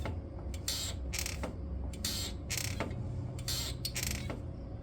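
Cammus C5 sim racing pedals creaking with wear, a series of repeated squeaky creaks in an uneven rhythm, close and fairly quiet, no voices.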